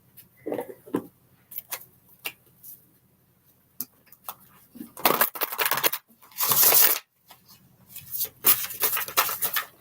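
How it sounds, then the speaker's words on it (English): A deck of tarot cards is shuffled in several short, rustling bursts, denser and louder in the second half, with quiet gaps and small handling clicks between them. "I'm going to keep shuffling."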